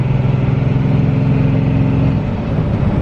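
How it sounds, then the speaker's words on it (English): A Cummins diesel truck engine with an NV4500 manual gearbox revs hard toward 3000 rpm, a loud, close, rumbling drone that holds steady and then eases slightly near the end. "We're revving to 3 grand, guys."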